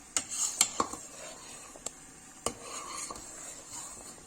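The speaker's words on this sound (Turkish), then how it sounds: "Şöyle sürekli karıştıralım ki şeker koyduktan sonra" A spoon scraping and stirring rice pudding in a pot, with sparse quiet clinks and knocks against the metal spaced out over a few seconds in a calm, quiet kitchen.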